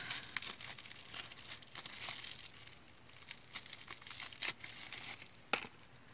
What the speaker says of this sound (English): But it is in bubble wrap